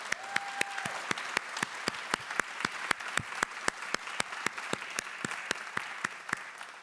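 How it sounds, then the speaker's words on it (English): Crisp, evenly spaced sharp claps ring out at a graduation ceremony for civic leadership fellows, a few distinct, fairly close hand claps repeating in a steady rhythm over a quiet room rather than a crowd's wash of applause. "Can we just have a round of applause for our fellows?"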